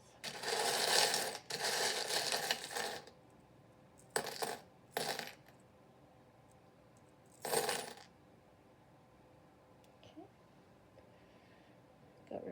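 Small metal tarot charms are gathered in the hand and dropped, giving bursts of jingling clatter, the longest at the start and shorter ones later, close up with quiet pauses between.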